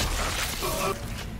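An explosion blasts through in the Dead Space remake, a loud burst with a shattering crash followed by rumbling debris, short and dense.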